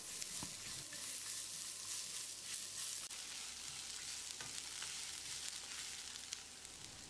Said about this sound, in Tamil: வெங்காயத்தை பொன்னிறமாக வதக்கிடலாம்.